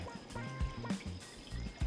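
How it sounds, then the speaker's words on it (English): Water goes into a pot for sugar syrup, a soft, close pouring and sloshing with uneven bursts and low thumps, quiet overall. "we're going in with some sugar and 7 cups of water"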